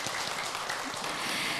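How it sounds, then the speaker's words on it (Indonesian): A studio audience of women applauds on an Indonesian religious family television show. The sound is a continuous, even wash of clapping from many hands, fairly faint and steady throughout, with no voices over it. "Tepuk tangan dong ibu-ibu."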